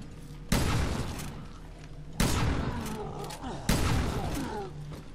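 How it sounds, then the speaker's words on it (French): A new rifle fired in the survival horror game Resident Evil Revelations 2 gives three loud, booming shots spaced a second or so apart, each ringing out with a long reverberant tail and faint mechanical clatter. "On va tester notre nouveau fusil."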